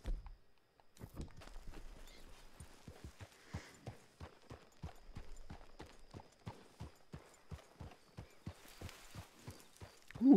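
Horse hooves clip-clop in Red Dead Redemption 2, a steady walking rhythm of distinct, fairly faint hoof strikes evenly spaced over several seconds, with no talking.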